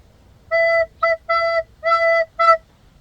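Five clean recorder tones on E from a song, alternating longer and short notes in a lilting rhythm, played close and alone with no voices.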